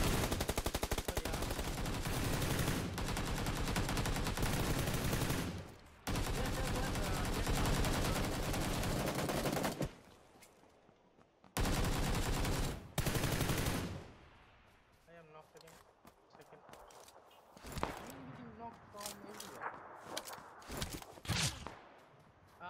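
Gunfire in PUBG Lite, long stretches of loud continuous automatic shooting broken by brief pauses, then sparser distant single shots and scattered impacts, with players talking over it.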